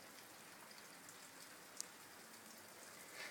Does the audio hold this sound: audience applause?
no